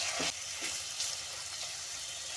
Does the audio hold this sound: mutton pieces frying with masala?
yes